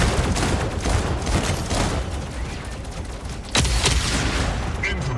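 Rapid gunfire and explosions from fighting robots in the Mech Arena game, dense bursts of shots and booms crowding together, loud and continuous with a sharp blast partway through.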